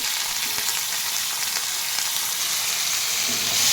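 Ginger paste, tomato and cumin powder fry for shahi paneer in a close, continuous sizzle and hiss, with occasional stirring noises and a slight swell near the end.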